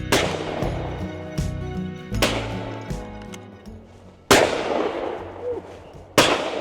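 Shotguns firing at a clay shooting competition, the Orvis Shogun Classic: three sharp, loud reports with long echoing tails, spread across the stretch over a low rumble of outdoor background.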